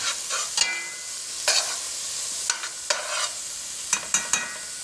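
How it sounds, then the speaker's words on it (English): Garlic sizzles gently in a pan while a utensil stirs it, giving several soft scraping bursts spaced irregularly over a low, steady frying hiss, close and quiet with no voices. "Now I'm just going to stir this around a little bit, and we're going to let those flavors develop."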